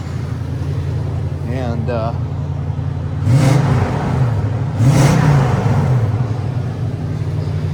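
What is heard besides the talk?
Toyota Sequoia engine with new headers idling then revving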